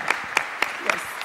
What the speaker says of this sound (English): Now everybody is saying yes, please, round of applause.